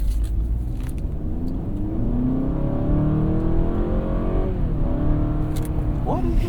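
A 2023 Honda Accord Sport Hybrid with a CVT driving, a steady engine drone and road hum that rises in pitch as it speeds up, with talk over it from inside the cabin.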